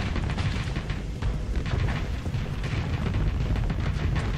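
Beam lasers firing during a Starsector space battle among drifting wrecks, a dense continuous roar of energy weapons and booming impacts running without pause.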